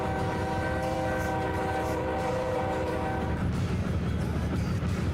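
A train horn sounded in the Trainz 19 simulator on an HO scale layout, a loud sustained multi-tone blast over continuous rolling rail noise that cuts off partway while the train keeps rumbling.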